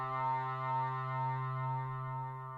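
A sustained, buzzy synth tone in a music production session, its low end turned all the way down with an EQ, holds one steady pitch with a gentle pulsing wobble and fades slightly at the end.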